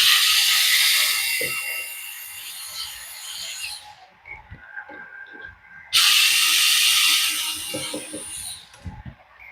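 A small screwdriver or driver tool makes a loud, close whirring hiss in two long bursts while removing housing screws from an XDRC 945 RC hydraulic excavator, with light clicks and rattles in between.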